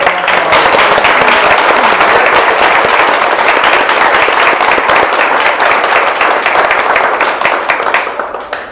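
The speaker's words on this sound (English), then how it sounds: "Big round of applause for all of our council" Loud, dense round of applause from the audience at a school district Board of Education meeting, sustained clapping throughout that tapers off at the end.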